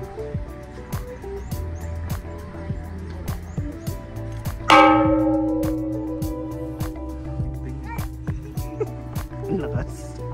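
Temple bell at Batu Caves, Malaysia, struck once midway, a bright ringing strike with a long decaying tone, heard amid chatter and ambient crowd noise.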